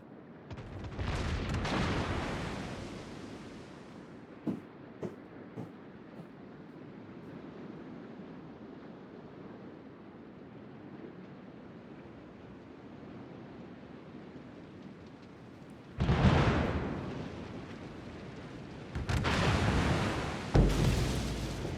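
Naval gunfire and shell impacts on a Kremlin battleship in World of Warships: a deep booming salvo near the start, a few sharp distant cracks, then heavy rumbling hits near the end over a steady ocean-like background.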